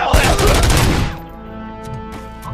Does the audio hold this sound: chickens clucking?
no